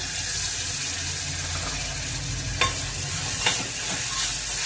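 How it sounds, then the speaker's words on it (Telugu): Overnight-soaked chickpeas go into a pan for a brinjal and chickpea curry, giving a close, steady sizzle and wet stirring noise with a few sharp clinks and scrapes partway through, and no voices. "రాత్రి నానబెట్టుకున్న శనగలు అండి వేసేస్తున్నాను"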